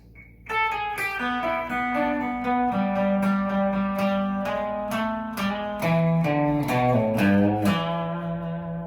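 Electric guitar solo lick from a live version of a song, played alone from the beginning with a distorted, effects-laden tone: a sustained run of bent and held notes, steady and loud, with no talking.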